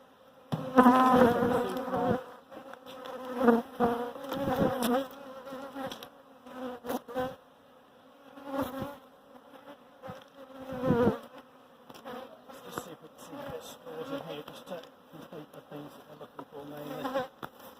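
Bees buzzing loudly and continuously up close, the drone swelling and fading as insects move about, with no voices.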